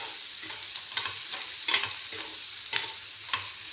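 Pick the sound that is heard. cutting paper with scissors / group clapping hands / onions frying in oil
onions frying in oil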